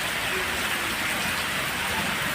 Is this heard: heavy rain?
yes